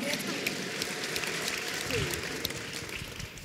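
A church congregation applauds during a prophetic service, with dense, steady clapping throughout and a few sharper claps standing out.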